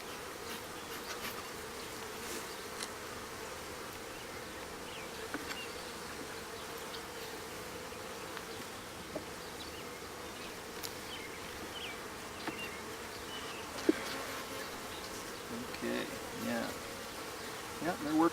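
Honeybees in a new hive a month old, drawing comb, make a steady, close, soft buzzing hum that continues throughout, with faint voices occasionally underneath.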